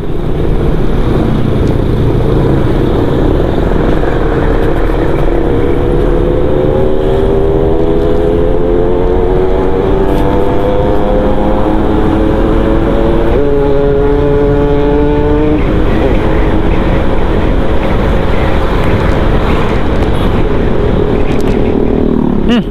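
A loud two-stroke motorcycle engine drones nearby, its pitch rising as it revs up and then shifting through gears amid traffic noise on a bumpy road.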